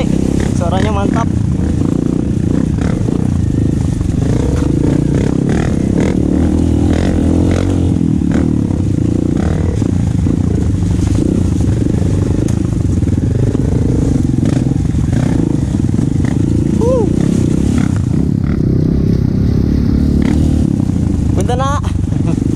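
A Honda CRF 250 Rally motorcycle engine roars and revs continuously while riding off-road trails, loud and close throughout, with clattering and shifting engine pitch under occasional voices.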